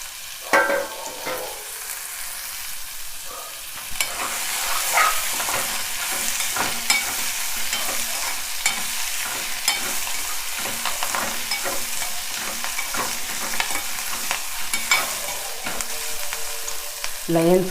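Millet kichdi with curry leaves and mint fries in oil with a constant sizzle, broken by frequent scraping clicks and knocks from the stirring spoon against the pan.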